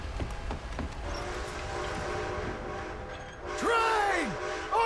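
Rumbling rail noise builds in Red Dead Redemption 2 as a train approaches, then its horn sounds in loud sweeping blasts near the end, with talk over the rumble.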